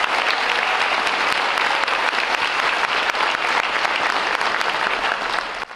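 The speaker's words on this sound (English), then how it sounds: "Let's give our music teachers from Vicksburg High School District a big round of applause." Dense, sustained applause from a large audience fills a school district convocation hall in Vicksburg, honoring high school music teachers; steady clapping throughout, loud and close, tapering slightly at the end.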